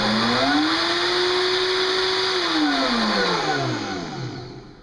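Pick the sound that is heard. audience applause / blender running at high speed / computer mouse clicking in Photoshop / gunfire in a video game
blender running at high speed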